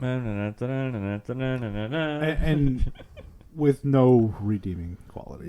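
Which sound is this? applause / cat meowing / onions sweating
cat meowing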